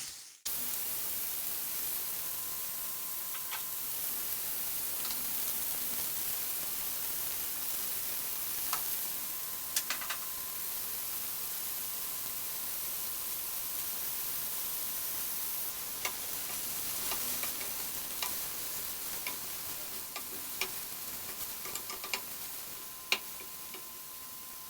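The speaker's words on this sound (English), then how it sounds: "you have to really cook your onions in low heat" Onions cooking slowly over low heat in a pan, a steady, quiet hiss of fine crackling that runs evenly throughout, with scattered tiny pops and ticks and no voices.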